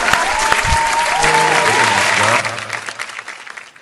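Loud audience applause rises at a devotional bhajan gathering, a dense burst of clapping that holds for a couple of seconds and then thins out as a voice begins to speak.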